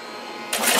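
A wood lathe turning a large platter, a scraper tool shaving wood off: a quiet hum gives way halfway through to a loud, rising rasp of the cut.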